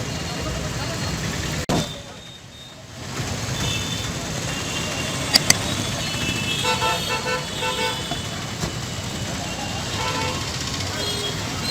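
Street traffic at a market rumbles steadily as a car pulls away, with a couple of short horn toots and a few lighter honks from vehicles, with voices talking in the background.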